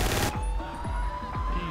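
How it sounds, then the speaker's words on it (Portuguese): In the video game GTA 5, a loud burst of gunfire opens, followed by a few sharp shots fired into the air ringing out over a continuous droning background. "vou dar dois tiros pro alto"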